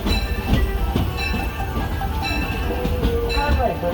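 Disneyland Railroad steam train pulled by the C.K. Holliday rolling along the track, a rumbling ride with rhythmic clicks and clatter, an announcer's voice talking over the noise.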